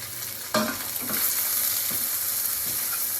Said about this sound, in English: This is on high at this point. And I am going to stir that around a little bit.